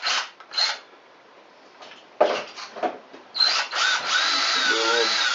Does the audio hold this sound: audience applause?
no